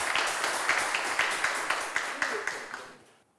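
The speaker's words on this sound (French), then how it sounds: "on vous applaudit quand même" A television game show studio audience applauds a contestant, with steady, dense clapping that gradually fades out.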